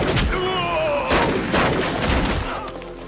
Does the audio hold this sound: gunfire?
yes